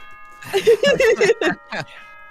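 A voice imitates the announcement chime from the video game Danganronpa with a quick run of sung syllables rising and falling like a bell. There is no actual chime, only the voice, close and clear.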